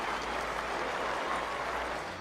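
Crowd at Lord's cricket ground standing to applaud batsman Steve Smith during a Pakistan versus Australia Test match, a dense, steady wash of clapping that carries on without pause.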